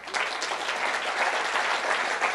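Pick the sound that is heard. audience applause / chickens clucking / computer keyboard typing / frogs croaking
audience applause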